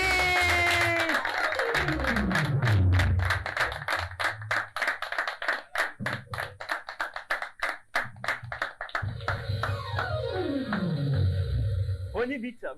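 Applause and rhythmic clapping greet a guest arriving on a French-language music show, with sharp hand claps punctuating a busy mix of music and crowd noise, fairly close and continuous throughout.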